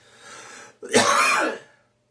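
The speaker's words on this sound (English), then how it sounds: "I certainly need some air if I keep coughing like this" A single rough throat-clearing cough rings out loud and close after a quiet breathy lead-in, then cuts to silence.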